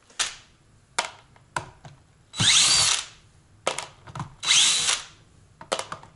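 A power tool spins screws out of a Smart Fortwo lithium battery pack, short whirring bursts repeating in an irregular rhythm with two longer runs, close and fairly loud against a quiet background.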